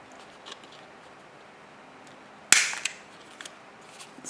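A small corner rounder punch clips a paper journal page corner with one sharp, loud snap, followed by a few faint rustles and clicks in an otherwise quiet room.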